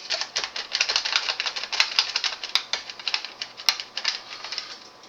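A knife chops fresh dill on a cutting board in quick, steady, close-up taps that carry on for several seconds, with no talking.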